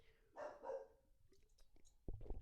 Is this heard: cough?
no